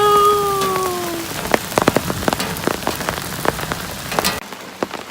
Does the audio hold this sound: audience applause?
no